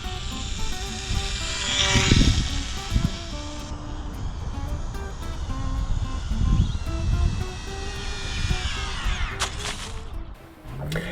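An RC model airplane's propeller drones continuously in flight, carrying extra weight at high throttle, with steady buzzing tones that rise and fall as it passes, fairly close and loud throughout.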